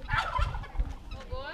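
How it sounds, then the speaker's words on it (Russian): A turkey gobbles in a rapid, warbling burst, moderately close, with some background noise. "Смотри, это индюк там, Денис."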